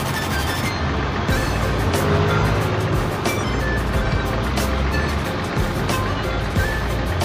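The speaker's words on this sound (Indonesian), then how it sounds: "Dan bus Jaya beranjak sedikit demi sedikit maju ke depan." A large bus engine rumbles low and steady amid rainy morning toll-road traffic noise, with occasional clicks and knocks as it creeps forward.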